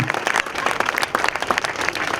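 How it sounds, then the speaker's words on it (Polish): Warm applause for marathon competitors at the Hel–Gdynia event, a dense steady patter of many hands clapping close by, with no voices over it. "Raz jeszcze gorące brawa dla najlepszych, dla uczestników tej rywalizacji."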